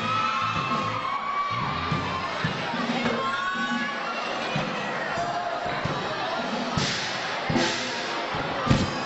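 A school concert audience of students screams and cheers loudly and continuously, with shrill children's shouts, scattered thumps and claps under a dense crowd roar.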